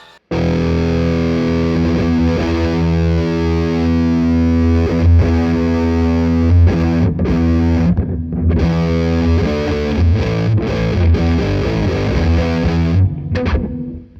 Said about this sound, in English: not like a straight up big muff, but that sort of fuzzy type of tone